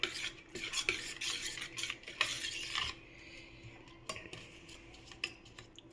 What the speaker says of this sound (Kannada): ಇದು ಚೆನ್ನಾಗಿ ಕಲಿಸ್ಬಿಡ್ಬೇಕೀಗ.